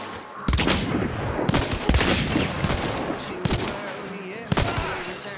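Rapid gunfire in the game Hunt: Showdown: dense, loud volleys of shots with several sharp separate cracks cutting through, continuous across the stretch, with voices talking over the shooting.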